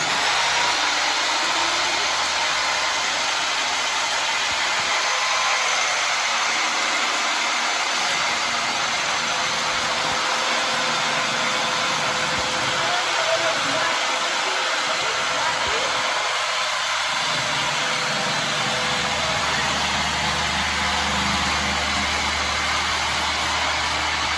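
A loud, steady circular saw whine runs throughout as it cuts through wood, with a constant high-pitched roar and brief low thumps underneath.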